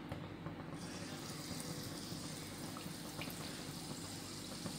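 Pepper vada fries in hot oil with a soft, continuous bubbling hiss that holds steady and fairly faint from start to finish.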